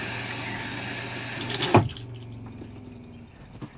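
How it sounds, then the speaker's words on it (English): Water runs into a Dometic 300 Series RV toilet bowl in a steady close splashing stream, then cuts off abruptly and leaves a faint trickle and low hum. "Okay, the water's on."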